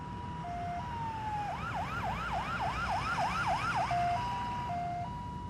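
An ambulance siren for an audiobook scene wails at a moderate distance, starting with slow two-tone hi-lo alternations, switching to a rapid rising yelp cycle, then returning to the two-tone pattern over a low road hum.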